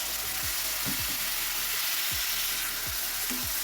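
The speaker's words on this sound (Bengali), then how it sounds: "কষিয়ে নেবো, কষিয়ে নিয়ে ফুলকপিগুলো দিয়ে দিব" Sautéing in a pan before cauliflower goes in, a dense constant sizzle with a few low thuds of stirring at intervals, no talk.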